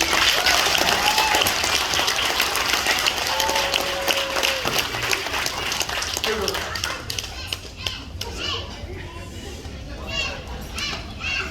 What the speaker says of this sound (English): One round of applause for the Seahawks